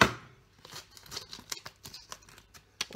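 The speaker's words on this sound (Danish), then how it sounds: "Så klipper jeg opp posen." Scissors snip through a plastic powder bag in a kitchen beside a boiling kettle, a quick series of close, crisp cuts and rustles over a few seconds.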